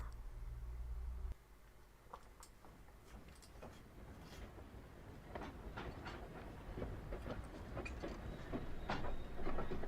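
Train journey from London to Liverpool in the Titanic: Honor and Glory game, a low rumble giving way to a soft, continuous rolling hiss with scattered faint clicks of the rails, fairly quiet and steady.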